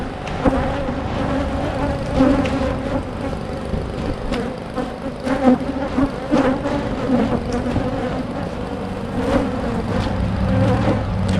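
Honey bees swarm close around their hive in a dense, steady defensive buzz, many wings humming together throughout with individual insects passing near.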